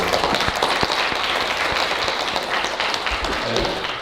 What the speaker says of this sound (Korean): 박동환 선교사님, 또 우리 이세환 선교사님 부부 오셨어요. 큰 박수로.